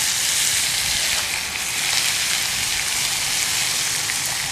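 Flatiron steak sizzling in a ridged frying pan at a campground, a steady dense hiss and crackle of frying fat that carries evenly throughout without pause.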